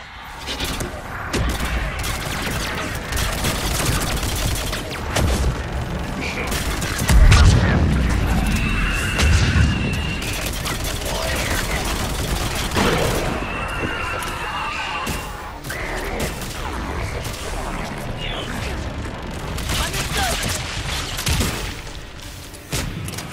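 Missile strikes and gunfire in Mass Effect 3 battle: dense, continuous rattling fire with heavy booming impacts and crashes layered throughout, loud and chaotic with no pause.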